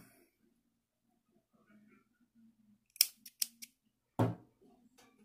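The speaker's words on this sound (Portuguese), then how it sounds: "Agora, aqui eu posso cortar o meu fio." Scissors cutting crochet yarn close up, a few quick sharp snips followed by one longer cut, with quiet room sound and faint murmuring around them.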